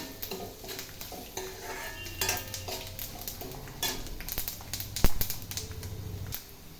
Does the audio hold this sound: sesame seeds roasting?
yes